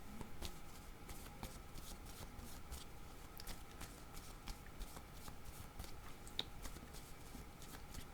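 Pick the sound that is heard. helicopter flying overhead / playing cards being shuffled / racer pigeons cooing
playing cards being shuffled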